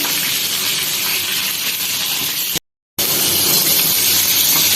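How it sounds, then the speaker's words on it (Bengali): Pointed gourd (potol) pieces frying in oil, a steady loud broadband sizzle and hiss running throughout, briefly cut to silence for a moment before resuming. "আর এদিকে পটল ভাজা হচ্ছে"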